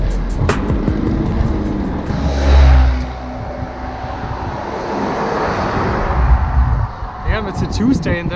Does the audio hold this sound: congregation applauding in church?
no